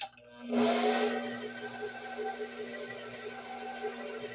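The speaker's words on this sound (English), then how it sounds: "Second part of flour going in. Want to mix that until combined first gear." A stand mixer on its first speed starts up and mixes flour into blackberry pound cake batter, settling into a steady close whirring hum with a high whine, no talking.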